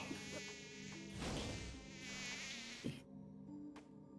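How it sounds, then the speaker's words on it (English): Bees buzz in the video game Timespinner, a continuous insect drone over game sounds, with a few sharp thuds and a sudden drop in the soundscape near the end. "There are bees in this game as well."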